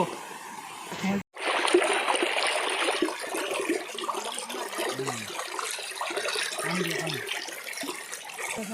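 A waterfall pours in a steady, fairly close rush that fills the whole stretch, while people speak intermittently over the flowing water.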